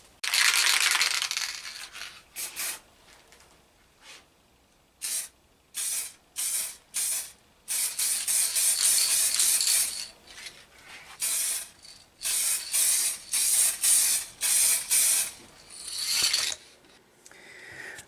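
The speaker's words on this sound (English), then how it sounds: "I'm ready to spray another layer" Airbrush spraying a clear coat layer onto a panel, in repeated short bursts of hissing spray broken by brief pauses, with a longer continuous pass, close and fairly loud without talk.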